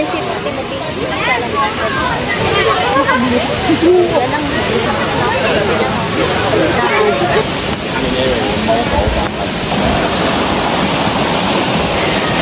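A waterfall in Luang Prabang pours in a steady, loud rushing roar that fills the whole clip, with people chattering nearby over the water.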